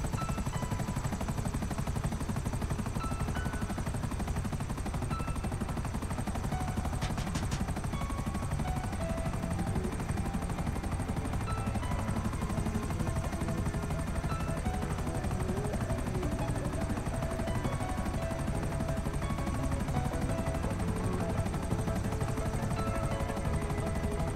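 Buzzard helicopter in GTA Online lifting off and flying, a steady broadband rotor and engine roar that stays loud and constant throughout with faint game effects mixed in.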